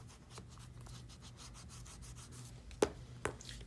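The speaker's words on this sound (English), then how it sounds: "Burnish it down." Paper is burnished down by hand in lip balm book crafting, a faint, close, continuous rubbing with two sharper taps near the end.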